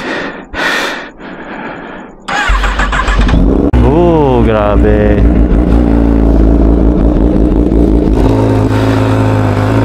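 Kawasaki ZX-10R motorcycle starts up with a sudden loud roar, then revs hard in rising and falling sweeps before settling into a steady, loud idle, with a brief exclamation from a person at the start.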